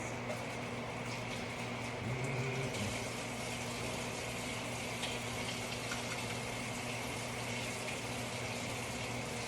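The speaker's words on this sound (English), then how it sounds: "I'm going to wash my hands again." Tap water running steadily into a kitchen sink while hands are washed, a continuous close hiss and splash with a brief louder gush partway through.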